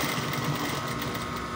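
Sewing machine stitching bedsheet fabric for a queen-size fitted sheet, a close, continuous rapid whirring hum with no pauses.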